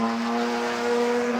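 Historic racing cars, including a Jaguar D-Type and an Austin-Healey 100, roar past on the Silverstone circuit during a Stirling Moss Trophy race, a loud steady engine howl with a strong sustained pitch close by.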